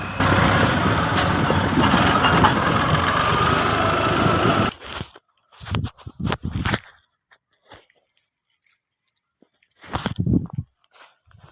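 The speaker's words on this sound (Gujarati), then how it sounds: "પછી ગામમાં ટ્રેક્ટર લઈને હું નીકળી ગયો ખેતર તરફ." A tractor engine runs loud and steady while driving from the village toward a farm field, a dense rumble lasting about five seconds before cutting off to near quiet with a few scattered knocks and bumps.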